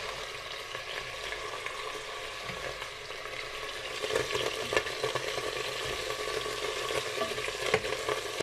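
Steady crackling sizzle of pieces of meat frying in hot oil in a multicooker bowl, continuous and close, with occasional louder pops and spatters.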